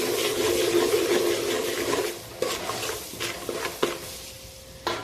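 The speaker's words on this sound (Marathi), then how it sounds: "हे मसाले मी चांगले परतून घेते" Spices for a Maharashtrian mutton rassa, turmeric, goda masala and salt, are sautéed in a pan: a dense sizzle that fades after two seconds into quieter crackling and stirring scrapes, with a few spoon knocks.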